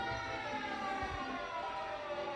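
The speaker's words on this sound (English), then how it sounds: "You hear the siren in the background?" A siren wails faintly in the distance over a steady low background rumble, with no voices, after an 8.8 magnitude earthquake.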